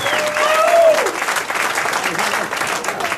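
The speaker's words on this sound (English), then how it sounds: "Petersen, let's give him a big hand" An audience at a comedy show, where a comedian is doing an impression of Rodney Dangerfield, bursts into sustained applause, a dense wash of clapping with a few whoops, loud and continuous throughout.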